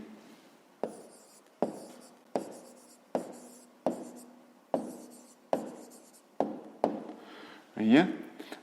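Pen or pencil writing a maths answer by hand on paper, a series of about ten short taps and scratches at a steady pace, close and clear, with one longer scribbling stroke at the end.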